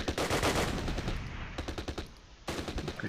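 Automatic gunfire in the war strategy game Close Combat: Last Stand Arnhem, dense rapid machine-gun bursts that run almost continuously, pause briefly, then resume loudly.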